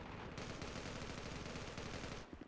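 Rapid automatic gunfire from the Zula Mobile shooter game rattles in a dense, continuous burst for about two seconds, fairly quiet and with no talk over it.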